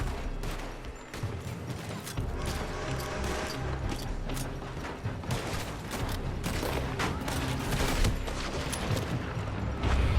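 Sustained gunfire from a building in the Red Dead Redemption 2 video game, a dense rolling clatter of shots that runs throughout over a loud, busy battle backdrop.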